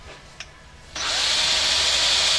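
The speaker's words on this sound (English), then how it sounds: "you get an 1/8 inch drill bit, drill it into the center of where the hole's going to be" A power drill with an 1/8 inch bit bores into wood, starting abruptly after a faint click and whining on steadily and loudly near at hand, with no talk over it.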